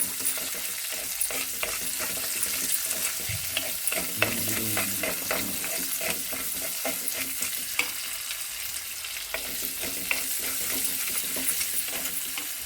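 Onion frying in oil with curry leaves, a steady crackling sizzle with scraping stir strokes throughout, close and fairly loud, no voices.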